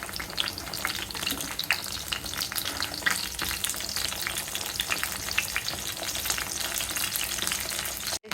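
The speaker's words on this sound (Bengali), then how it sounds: "এগুলো ভেজে নিচ্ছি।" Burger ingredients fry in a hot pan with a loud, dense, continuous sizzle and crackle, close up and steady throughout, with light stirring scrapes and no voices.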